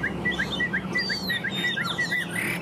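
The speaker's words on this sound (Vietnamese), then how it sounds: "Hot tốt các bác nhá, chim thuần." A tame songbird that is moulting sings close by in quick, repeated high chirps and short whistled phrases, steady and lively over light background noise.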